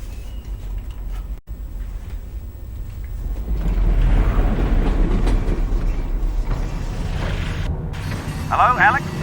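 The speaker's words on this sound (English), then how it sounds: "Did the train stop? It stopped, didn't it?" A moving train rolls on rails in the Half-Life: Alyx video game, a rumbling mechanical run with rattling that swells louder midway before settling.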